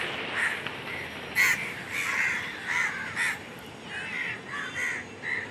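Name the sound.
crows cawing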